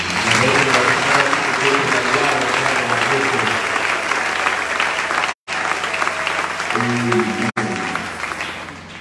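A church congregation applauds and acclaims the Lord, filling the space with sustained, loud clapping and crowd voices that carry on for several seconds, broken only by two brief dropouts.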